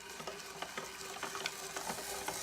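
A spiralizer blade slicing radishes thin, a quiet rapid scraping and clicking rhythm of cuts over a faint steady hum, no speech.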